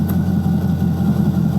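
A C5 Corvette with a Billy Boat aftermarket bullet exhaust idles with a steady, deep rumble and a slight rhythmic lope, close and moderately loud.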